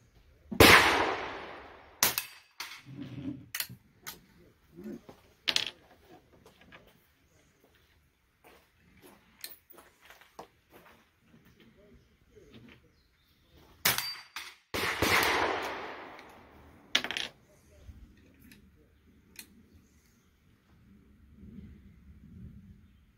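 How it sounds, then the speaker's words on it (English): A .32 Colt #4 Remington rolling block rifle fired at steel targets: two sharp, loud shots about fourteen seconds apart, each with a quick ringing decay, and faint clicks and handling noise in the quiet between them. "We'll take a few shots here at the steel targets with the 32."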